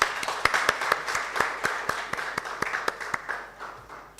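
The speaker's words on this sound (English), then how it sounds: "A round of applause for everyone." Sparse, scattered hand claps from a lecture audience at a public ethics and leadership talk, a modest round of applause that rises briefly then thins out over a few seconds, fairly quiet and without speech.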